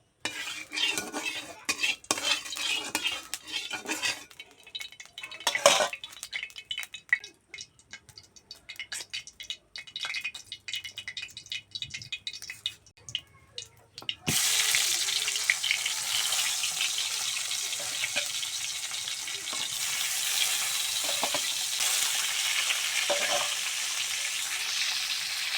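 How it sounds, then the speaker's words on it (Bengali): Fish frying in pure homemade mustard oil in a wok (kadai), silver carp pieces crackling; a steady, dense sizzle fills the second half after quieter stirring and clinks of a spatula against the pan. "দেখো মাছ ভাজা হয়ে গেছে, এখন উঠিয়ে নেব"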